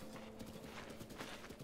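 Steady clip-clop of horse hooves trotting at an even rhythm in the video game Zelda: Breath of the Wild, fairly quiet and continuous, with no voices.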